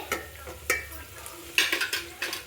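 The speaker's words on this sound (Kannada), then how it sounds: "ಜೊತೆಗೇ ಹಸಿಮೆಣ್ಸಿನ್ಕಾಯಿ ಹಾಕ್ಕೊಳ್ಳಿ ನೋಡಿ ಫ್ರೆಂಡ್ಸ್ ಈರುಳ್ಳಿ ಎಲ್ಲ ಫ್ರೈ ಆಗಿದೆ" Onions and green chillies fry in a pan for tomato bath, with a soft sizzle broken by several quick spoon scrapes and taps. No one speaks.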